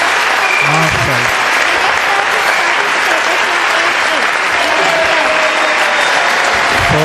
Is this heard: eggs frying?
no